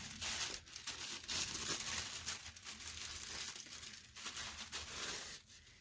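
Tissue paper is folded in half and then folded again, producing continuous close crinkling and rustling with brief pauses between handling.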